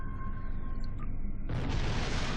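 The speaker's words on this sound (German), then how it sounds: "Und da ist was explodiert" A sudden loud, broadband rumbling blast erupts after a steady electronic hum in the video game Star Trek Online, then keeps roaring and crackling to the end.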